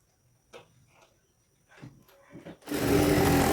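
A sewing machine stitching a blouse starts up after a few soft handling clicks and then runs loud and steady at close range.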